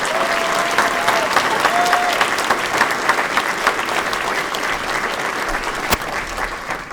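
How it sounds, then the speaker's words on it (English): An audience gives a warm round of applause at a community gathering in Roanoke, dense steady clapping close by that holds at full strength for several seconds before easing slightly at the end. "Let's give her a round of applause."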